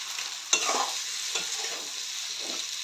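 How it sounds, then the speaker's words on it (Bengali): Meat frying in a pan, with fat trimmed off beforehand, gives a steady sizzle and sharp popping crackles, including a loud pop near the start and softer bursts after it, close by and with no voices. "দেখেছো, ফট ফট করে আওয়াজ হচ্ছে।"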